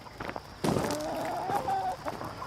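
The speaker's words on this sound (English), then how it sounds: "there's some of the chickens" Chickens clucking and calling nearby, with a sudden burst of louder squawks partway through and steady outdoor background noise.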